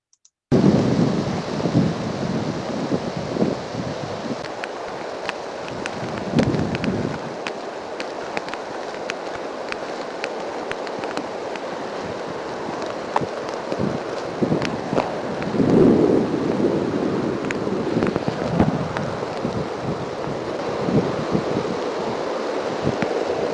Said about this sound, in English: you'll hear what may be cannon or musket fire or both